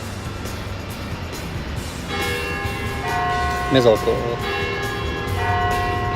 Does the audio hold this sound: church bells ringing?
yes